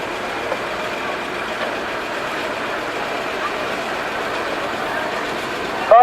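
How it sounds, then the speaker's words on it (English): A 1958 Ford Thames flatbed truck with a 4D diesel engine running in a show arena, giving a steady, moderate engine drone throughout while a commentator talks over it. "'58 Ford Thames flatbed, and this is the 4D diesel"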